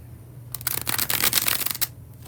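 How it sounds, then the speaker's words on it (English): Bridge shuffle of a tarot card deck: a quiet pause, then a dense burst of rapid riffling card flutter for over a second, ending in a brief settle, close and fairly soft. "We are going to get into the last bridge shuffle."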